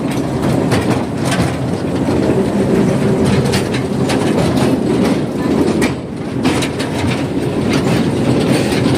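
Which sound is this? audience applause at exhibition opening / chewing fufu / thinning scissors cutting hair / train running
train running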